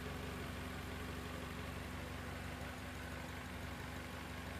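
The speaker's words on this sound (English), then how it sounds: "Yes, engine is working stable." A car engine idles steadily with its fuel injectors switched on, giving a continuous low hum with a faint constant tone, close and alone without talk.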